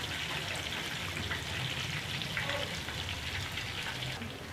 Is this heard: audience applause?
no